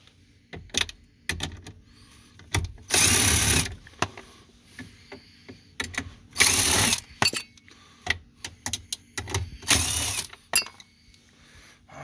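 A power driver with a 7mm bit backs out screws inside a Ford Explorer during a blend door replacement, giving three loud whirring bursts separated by sharp clicks, small rattles and clinks of loose screws.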